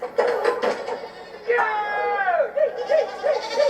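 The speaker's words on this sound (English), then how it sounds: "Release the goats!" Goats in a fantasy series scene bleat in wavering, nasal cries, several overlapping calls rising and falling close by over a busy background.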